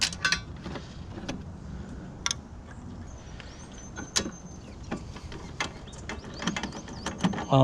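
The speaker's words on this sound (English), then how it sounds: "take these little bolts out" A ratchet loosens small bolts on a BMW: quick bursts of dry clicking pawl ticks and light metallic taps come in irregular spurts, close and moderately quiet, with no talking.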